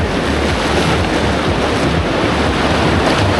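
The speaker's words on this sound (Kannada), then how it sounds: "ಭಯ ಆಗುತ್ತೆ ಅಲೆ ಅಷ್ಟೊಂದು ಬರ್ರಂತ ಬಂದ್ರೆ." Ocean waves crash and roar continuously on Candolim Beach in Goa, loud and close, mixed with heavy wind buffeting the microphone and no talk.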